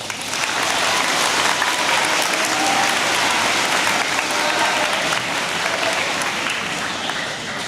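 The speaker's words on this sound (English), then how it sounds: "You can clap, it's okay." An audience at an 8th grade graduation ceremony claps steadily, a dense, loud burst of applause from many hands that continues throughout without letting up.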